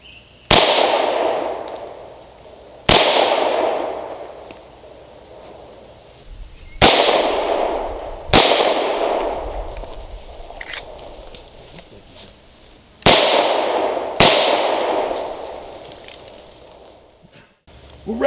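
Shots from a HiPoint .40 caliber pistol loaded with hollow points, six loud sharp reports spaced a few seconds apart with ringing decay after each, fired outdoors with no talking between them.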